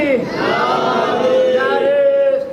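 A large religious gathering answers a call-and-response chant with a loud, sustained collective shout of a slogan, many voices rising together in a drawn-out, pitched roar that holds for a couple of seconds.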